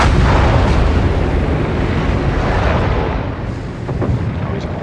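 Heavy naval gunfire from the battleship Gneisenau in a video game: a loud, sustained roaring boom with rumbling artillery-like blasts that slowly decay, filling the whole stretch.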